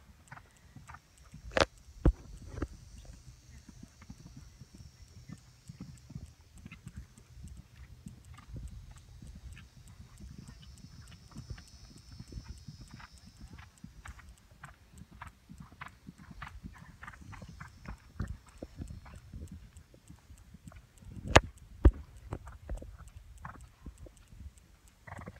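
Horse hooves thudding during cross-country riding, a faint steady rhythm of footfalls over open ground with occasional sharper knocks and light background noise.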